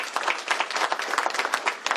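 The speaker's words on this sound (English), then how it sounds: "please give another round of applause to Malou and all the hard-working folks who do exactly that" Applause from an audience at a governor's bill signing, a steady dense round of many hands clapping, fairly close and even throughout with no talk over it.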